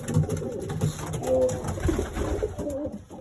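Red Iraqi pigeons coo repeatedly in soft, low, throaty calls, fairly close, with faint background rustling and no talking.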